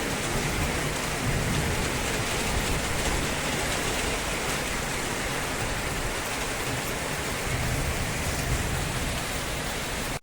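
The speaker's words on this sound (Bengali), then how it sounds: "আর এইদিকে দেখো একদম নেমে গেছে বৃষ্টি।" Heavy rain pours down in a dense, steady roar, constant and loud throughout with no voices.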